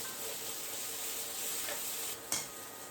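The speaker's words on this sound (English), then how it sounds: "the broccoli is just in florets. And we're going to stir fry these for about 3 minutes" Broccoli florets stir-frying in a pan, a continuous soft sizzle with light stirring scrapes and one brief louder clatter near the end.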